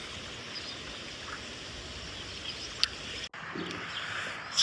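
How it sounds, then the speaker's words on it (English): The Gardon River flowing beneath the Pont du Gard aqueduct in southern France, a steady broadband rush of moving water heard close and even throughout, with a brief sharp tap near the end. "So here is the Gordon River."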